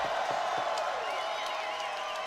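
A crowd at an armored MMA fight event cheers and whoops, with scattered clapping, in a steady roar that stays moderately distant throughout.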